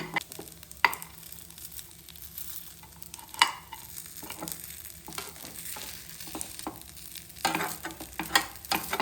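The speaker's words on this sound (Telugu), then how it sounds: "సో గైస్, నేనైతే పొంగనాలు తిప్పుతాను చూడండి, స్పూన్ తీసుకొని." Spoon turning ponganalu frying in a pan over a low flame, steady sizzle of oil with scattered clinks and scrapes of the spoon against the pan, close by and without speech.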